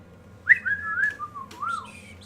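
A person whistles to call companions during a tabletop roleplaying session: a clear, rising-and-falling whistle in two phrases, fairly close and moderately loud, with no talking over it.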